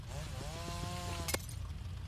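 A chainsaw in the Roblox game Rivals revs with a wavering, buzzy whine, cut off by a sharp burst near the end.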